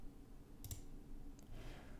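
Two faint mouse clicks, a quick double tap and then a single click, sound as the next page of a 2GIS listing is opened, over quiet room noise with no speech.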